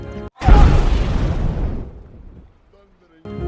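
A deep explosion bursts loudly as alcohol is thrown onto a fire in The Adventures of Tintin film, a heavy roaring blast that fades over about two seconds into quiet.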